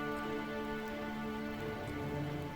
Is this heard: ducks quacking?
no